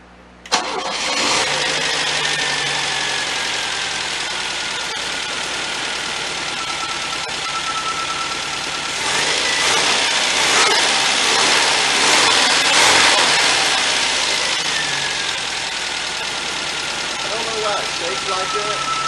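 A 1977 MGB engine with a rebuilt Weber two-barrel carburetor cranks and fires, then runs loudly and continuously at close range, swelling briefly as it revs, with voices talking over the noise.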